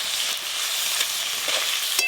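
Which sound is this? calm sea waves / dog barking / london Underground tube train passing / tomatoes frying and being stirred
tomatoes frying and being stirred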